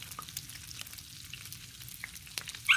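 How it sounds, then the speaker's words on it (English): Bacon frying on a Blackstone griddle, giving a steady close sizzle with scattered sharp pops and no talking. "Especially when there's bacon popping."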